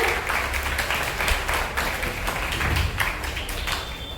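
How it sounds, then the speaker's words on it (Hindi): A steady, dense round of applause from a school crowd at a Hindi Diwas celebration, many hands clapping continuously without a break. "जोरदार तालियों से"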